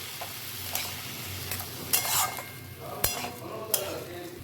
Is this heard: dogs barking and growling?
no